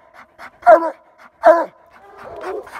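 A black and tan hunting dog at a raccoon den whines and pants in short bursts, with a couple of louder yelping barks close by, then snuffling and rustling toward the end.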